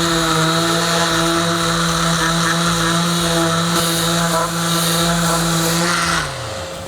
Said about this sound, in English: And just sand away.